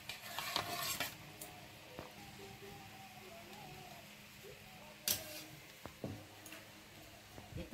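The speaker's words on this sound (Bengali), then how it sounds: "এবার মাছগুলো দিয়ে দাও।" Fish are added to a pan of curry and stirred, giving quiet scrapes and soft clinks of a utensil against the pan over a faint sizzle, with sharper knocks scattered through.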